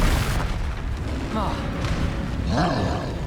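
A Confringo fire spell explodes during a Hogwarts Legacy wizard duel, a deep booming blast with rumbling low end, amid battle effects and a brief voice shout.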